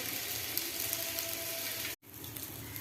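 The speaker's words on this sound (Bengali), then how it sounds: "পটলগুলো এরপরে তেলের মধ্যে ভেজে নিচ্ছি, উল্টে পাল্টে ভেজে নেব" Pointed gourd frying in hot oil gives a steady, dense sizzle that stays loud and even throughout, with a brief silent break partway through before the crackle resumes.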